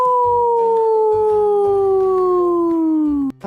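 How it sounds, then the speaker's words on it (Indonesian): A single wolf howls in one long, loud, clear tone that slowly falls in pitch over a few seconds before breaking off, alone and without talk. "Contoh yang kedua ada suara serigala."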